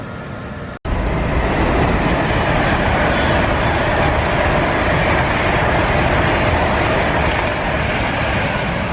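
A 12-carriage train bound for Milton Keynes Central rushes by close and loud, a dense continuous roar of wheels and rail noise after a brief cut near the start.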